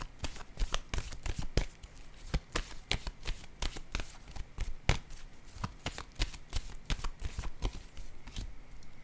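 Tarot cards shuffled close up, a long rapid run of crisp riffling slaps and flutters at an even, quick rhythm, fairly quiet and with no talk.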